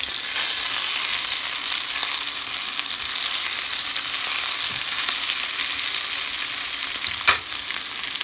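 Garlic sizzles steadily in a hot pan, a constant bright crackle that fills the whole stretch, with one sharp clink of a utensil near the end.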